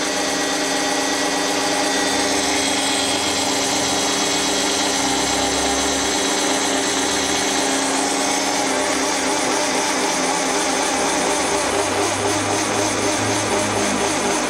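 A Schepach DP55 drill press runs at low RPM, giving a loud, steady motor hum with a constant whine that holds evenly throughout, with no voices.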